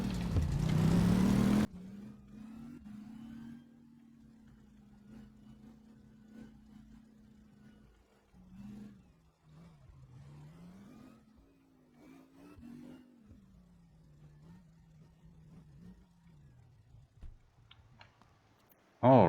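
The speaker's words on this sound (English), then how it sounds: "engine fires up." A car engine idles steadily for most of the stretch with a few small rises in pace, following a loud burst at the very start. It sounds close and fairly quiet, with no talk over it.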